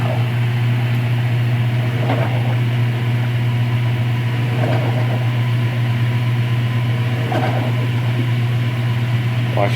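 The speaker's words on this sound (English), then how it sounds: "second rinse spin on high speed." A 2015 Speed Queen 8 Series washer spins at high speed on its second rinse, a loud steady hum and drone with a low tone, running smoothly and without pause throughout.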